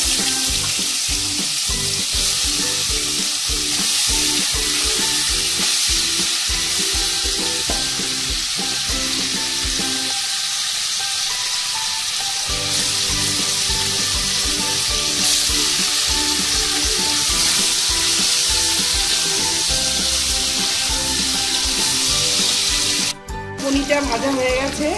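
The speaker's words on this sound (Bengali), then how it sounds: "এবারে এই পনিরগুলো একটু ভেজে নেব।" Salted paneer pieces frying in white vegetable oil in a frying pan, a dense, steady sizzle heard up close throughout, with faint clinks and a short quieter gap partway through.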